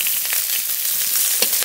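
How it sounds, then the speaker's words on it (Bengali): Chopped garlic and black cumin fry in hot oil, a bright, continuous close-up sizzle with crackling pops scattered through it and no talking. "রসুন একটু ভাজা ভাজা করে নিয়েছি।"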